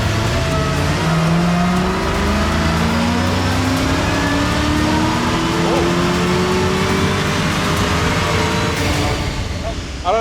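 A Mercedes E55 V8 revs hard on a dyno for a final power run, its engine note climbing steadily in pitch over several seconds, loud and close, then cutting off near the end.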